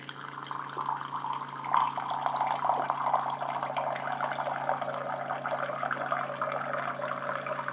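Water runs steadily into a hydrogen water bottle, a continuous close splashing pour that holds at an even level for several seconds.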